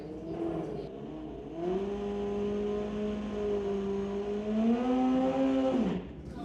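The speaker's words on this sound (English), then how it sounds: "Burns out first in the 1978 Kawasaki." A 1978 Kawasaki drag racer revs hard for a burnout, its engine wailing in a sustained high pitched tone that holds and climbs before cutting off abruptly, loud and close.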